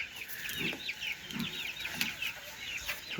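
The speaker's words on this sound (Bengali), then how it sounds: "এটা হচ্ছে টাইগার মুরগি পালা হচ্ছে এখানে কিছু 15টা" Tiger chickens clucking on a Bangladeshi farm, with repeated short low clucks and steady higher chirping calls running throughout, moderately close with no talk.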